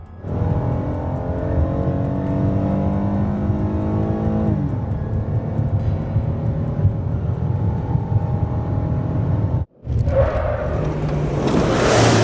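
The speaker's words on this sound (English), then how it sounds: "That is the car chase." A car speeds along a dirt road in a chase, its engine loud and steady with rising revs and a changing pitch, a brief cut near the end, then renewed roaring road noise.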